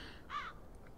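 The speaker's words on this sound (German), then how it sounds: "Jetzt werden wir vom Raben gepickt" A raven in the video game Black Mirror 2 lets out a single harsh caw, one short burst over a quiet ambient background.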